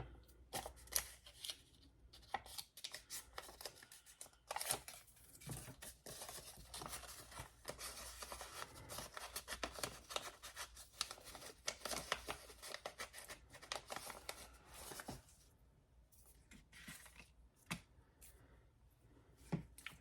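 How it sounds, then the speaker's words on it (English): Scissors cut through paper, likely book pages, in a long run of quick, close snips and crisp rustles at low level with brief pauses, no talk. "Let's cut this a little more."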